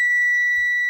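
A GTX 960 graphics card under repair gives one loud, pure electronic beep that holds steady for nearly a second, alone and close.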